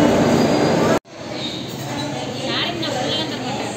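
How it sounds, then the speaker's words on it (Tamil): A train pulls into a railway station with a loud, broad rumble that cuts off sharply, then comes back as a steadier rolling roar with hints of squealing wheels. Voices can be heard faintly. "பக்கத்துலேயே ரயில்வே ஸ்டேஷன். ட்ரெயின் வந்துட்டுருக்கு."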